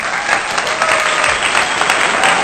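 A thick, continuous burst of crowd applause rushes at an even, loud level from start to finish, with no voices on top.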